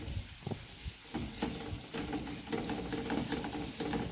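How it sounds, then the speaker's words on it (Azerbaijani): Cabbage, carrot and peppers fry in oil with onions, giving a steady sizzle with the occasional scrape of stirring over it, at close range. "İndi bunu da biraz qovururuq"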